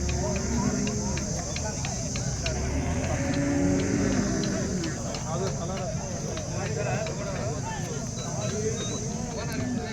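Cattle mill about at the big Chintamani cow market in Karnataka, with occasional lowing and hooves mixed into a busy outdoor din of many people talking nearby throughout.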